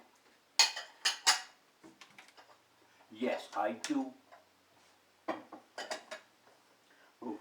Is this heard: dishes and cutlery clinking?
yes